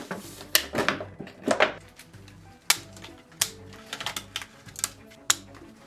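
Cardboard packaging of a Barbie Crimp & Curl doll box being handled and opened, with irregular close clicks, taps and crinkly rustles in bursts and no talking.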